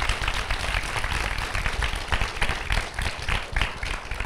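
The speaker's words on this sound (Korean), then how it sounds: "차상길 교수님께 다시 한번 정말 큰 박수 부탁드리겠습니다" Audience applauding loudly at a science lecture event for a professor, dense continuous clapping with sharp individual claps throughout, sustained at full strength for several seconds.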